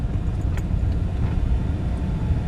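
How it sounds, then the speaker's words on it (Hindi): A car passes by on a road in a residential plot area, a steady low rumble of engine and tire noise lasting a couple of seconds, fairly close and without talk. "ले जी एक गाड़ी गुजरी है माशाल्लाह"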